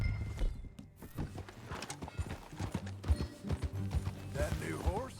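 Horse hooves clip-clopping at a steady walking rhythm in Red Dead Redemption 2, with a brief whinny near the end and a voice talking over it.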